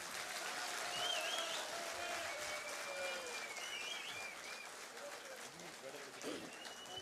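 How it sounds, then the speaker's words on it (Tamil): An audience claps steadily after a Tamil speech by Dr. Kantharaj, producing dense, sustained applause that softens slightly toward the end, with voices talking over it. "ஐயா உட்காரும் வரை கைத்தட்டலாம்."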